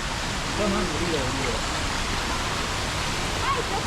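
An artificial waterfall in Singapore gives off a steady broadband rush of falling water, even and unbroken, with faint voices in the background.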